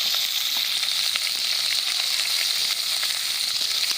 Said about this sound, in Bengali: ওই উনুনটাতে এখন আমরা কড়া বসিয়ে তেল দিয়ে আর মাছগুলোকে খুব ভালো করে ভাজা করে নিচ্ছি